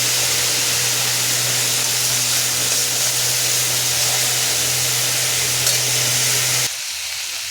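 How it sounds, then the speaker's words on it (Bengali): Squash frying in a pan with salt and turmeric produces a constant hissing sizzle with a low steady hum beneath, cutting off abruptly near the end. "বন্ধুরা আমার কোয়াশ ভাজা হচ্ছে।"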